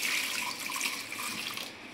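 Water runs steadily from a tap into a pot of soaked chickpeas with salt being readied for pressure cooking, a continuous close splashing hiss without pause.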